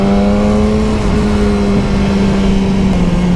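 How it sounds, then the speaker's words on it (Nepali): A scooter engine revs steadily while being ridden on a road during a group ride, with a strong continuous drone that holds loud and close throughout, no voices. "हाम्रो स्कुटरवाला साथी खतरा चलाउँदैछ"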